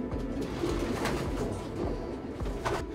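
Several pigeons cooing nearby in soft, repeated low calls, with a gentle background hum.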